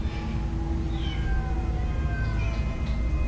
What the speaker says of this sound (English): cats give me the creeps